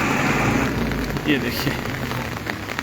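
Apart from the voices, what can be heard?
heavy monsoon rain in Shimla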